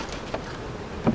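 Honeybee swarm colony at a hive in Maysville, North Carolina, newly housed in a ten-frame box, giving off a steady, close, low-level buzzing hum with no voices over it.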